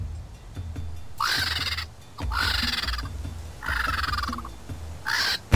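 A mother leopard snarls and roars a weak but furious challenge in four harsh, raspy bursts, close and loud, with no talking.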